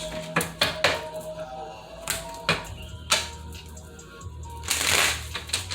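Tarot deck being cut and shuffled by hand, with a quick series of crisp card slaps and riffles, close and moderately loud, ending in a longer burst of riffling.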